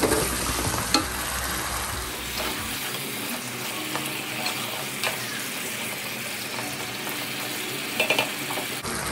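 Chicken for a roast being stirred into a cooked-down masala with tomato sauce, giving a steady close sizzle with scraping and stirring clatter throughout, no voices.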